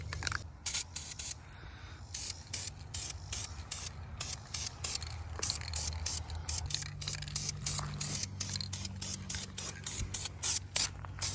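Orange paint sprayed onto brake calipers for a 1969 Camaro in repeated short aerosol bursts, close and crisp with brief gaps between them.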